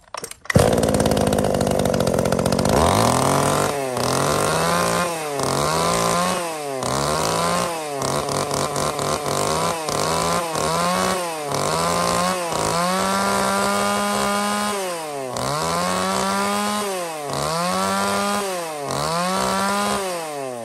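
A used Japanese 33cc chainsaw engine runs continuously and loudly up close, repeatedly revving up and dropping back in a steady cycle of rising and falling whine.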